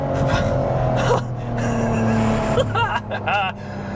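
A Ferrari F12 TDF V12 engine accelerates at a Caffeine and Carburetors car meet, a loud, sustained engine roar rising in pitch with a shift near the end, while excited exclamations are heard over it.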